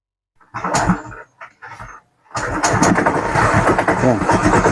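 A project car's engine cranks in a few short bursts, then catches and settles into a loud, steady running rumble close by.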